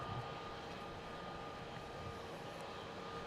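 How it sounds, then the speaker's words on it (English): Jetstar airliner taxiing at Melbourne Airport: a steady, distant jet engine rumble and whine, continuous and fairly faint, with no talk. "Jetstar 29 is now travelling north up Alpha"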